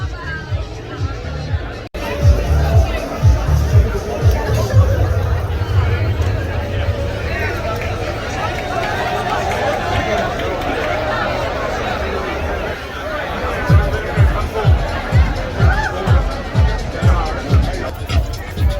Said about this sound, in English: This crowd goes for many miles